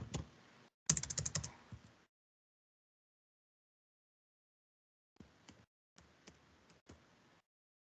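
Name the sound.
typing an email address on a computer keyboard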